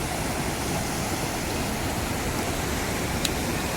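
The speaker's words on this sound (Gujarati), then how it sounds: "ઓવરફ્લો થઈ ગયું છે સાવણ ગામનું તળાવ." Water pours over the spillway of the overflowing Chavand village lake after heavy rain, a dense, steady broadband rush like a small waterfall, continuous and fairly close with no voices.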